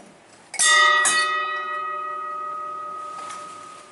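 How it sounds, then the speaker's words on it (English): Bell aboard the World War 2 destroyer USS Stewart at Galveston, Texas: two close, loud metallic strikes, then a long, ringing tone that fades slowly. No talking. "And there's a bell."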